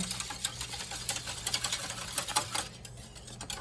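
A whisk rattles quickly against a bowl while a sauce mixture for pot roast is stirred, rapid close clicking taps in an uneven rhythm that thins out near the end.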